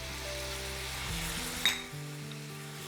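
Tomato paste and seasoning sizzle in a cheeseburger skillet, with a single sharp clink of a utensil against the pan partway through and a steady low fry around it.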